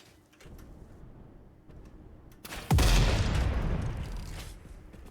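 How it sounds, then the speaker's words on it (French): Loud explosion in the video game Satisfactory as hatchers are blown up: a sudden heavy boom bursts in after a quieter stretch of game ambience, then rumbles and decays slowly over the following seconds. "Oh alors comment je les explose les écloseurs."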